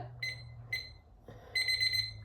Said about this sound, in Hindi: और फिर जैसे टाइमर बजा